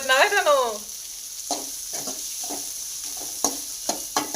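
Sliced onions frying in a pan for egg curry are stirred, with short intermittent scrapes over a faint sizzle after a brief spoken line at the start.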